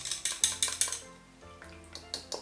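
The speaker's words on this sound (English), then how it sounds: "We're going to whisk these ingredients first." A whisk clatters against a bowl while salad dressing ingredients are mixed, giving a quick run of sharp metallic taps, a short pause, then more taps, close and faint, without talking.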